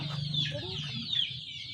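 Chickens on a small poultry farm of about 200 birds, clucking and squawking close by in a short burst of several overlapping calls, fairly loud.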